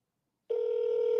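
After a moment of silence, a steady electronic telephone ringing tone starts abruptly and holds, clear and close.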